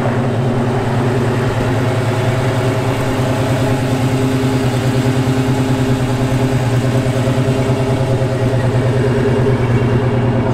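A 1965 Chevrolet Malibu SS engine idles steadily up close, a deep rhythmic rumble holding an even pace throughout with no voices.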